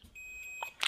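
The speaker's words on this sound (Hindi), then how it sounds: "बजर की रेंज पे आपने मल्टीमीटर को रख लेना है" A multimeter set to its buzzer range emits a single steady high-pitched beep lasting about half a second while testing the fuse resistor of an LED bulb driver, with faint handling clicks around it.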